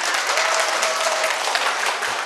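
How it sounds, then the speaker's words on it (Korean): Lecture audience breaking into a round of applause for marathon runner Lee Bong-ju, dense and loud clapping from a large crowd sustained evenly throughout. "우리 이봉주 선수를 위해서 박수 한번"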